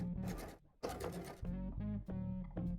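A sewing machine stitching along the seam of a tote bag, running in several close, steady bursts of rapid mechanical chatter with short pauses, fairly faint overall.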